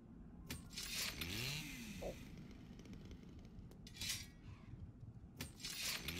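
A chainsaw-like Reaper weapon attack in the video game Final Fantasy XIV, heard as loud buzzing bursts with rising whines, clinks and a gritty motor rasp, repeating several times across the span with no speech.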